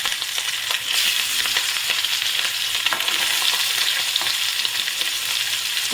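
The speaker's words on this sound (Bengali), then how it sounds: "তেলটা খুব ভালো করে গরম হলে মাছটাকে খুব কড়া করে ভাজতে হবে।" Hilsa fish deep frying hard in very hot mustard oil, a loud, dense, continuous crackling sizzle held close up, steady throughout with no talking.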